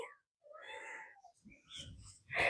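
A cream-coloured farm cat meows softly a few times, close by, while a person talks quietly over it.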